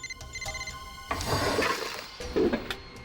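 A mobile phone ringing inside a drawer, a continuous muffled ringtone with rustling and knocks as the drawer is searched.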